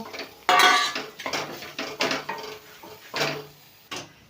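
Grated paneer is mixed in a pan over medium heat, a spatula clanking and scraping against the metal in quick irregular strokes, loud and close with no talking.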